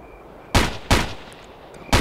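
Three sharp gunshots from a squad firing in Ghost Recon ring out at irregular intervals, each a loud broadband crack with a brief decaying tail over a quiet background.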